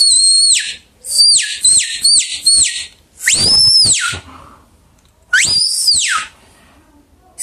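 A hunting game call (pio) used for paca, deer, agouti and peccary is blown in short bursts, giving loud, thin, high whistles that rise and fall in a repeated stop-and-start rhythm with brief silences between, heard alone without talk.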